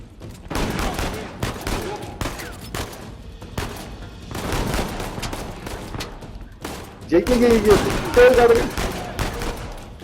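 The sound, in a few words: gunfire from enemies in video game Uncharted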